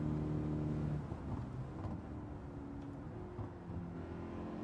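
A tuned Honda Fit Hybrid in Gran Turismo 7 drones along with a steady engine note that shifts pitch as it accelerates through the gears, moderately loud and continuous with no talk.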